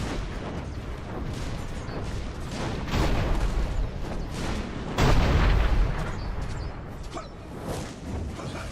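Repeated heavy booms of cannon fire in Dungeon Siege 3, with louder blasts around the middle and later, over a dense rumbling battle din.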